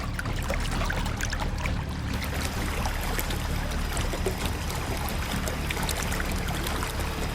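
A waterfall roars steadily with dense, broadband foaming water, a constant loud rush that does not let up.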